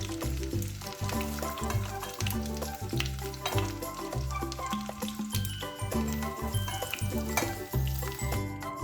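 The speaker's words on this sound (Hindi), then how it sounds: "मैंने यहाँ उसी पैन में 2 टेबल स्पून घी लेके वही कोफ्ते मैंने थोड़े से हल्के से ब्राउन होने तक मैं इसको फ्राई कर लूँगी" Mutton koftas frying in two tablespoons of ghee in a pan, a steady close sizzle with stirring and scraping over a continuous background of music.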